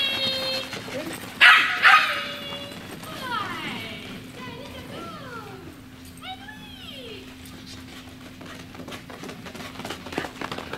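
A puppy barks, yips and whimpers in short bursts near the microphone, with a loud yelp early on and higher whines later, while people call out and talk.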